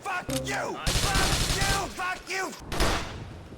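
Shotgun fire in GTA 4 The Lost and Damned comes as a rapid series of loud close blasts and mechanical clacks, with a voice talking between and over the shots.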